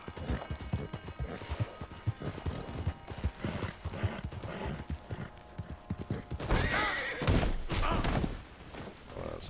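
Hooves clip-clop at a steady gait with a horse whinnying, game audio from Red Dead Redemption 2, busy and fairly loud throughout.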